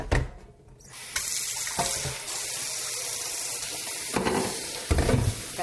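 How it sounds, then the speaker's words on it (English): Tap water runs steadily over cut sweet potatoes in a colander, rinsing off the starch, a continuous close splashing rush with a few clatters. "run them through a colander to rinse all that starch off"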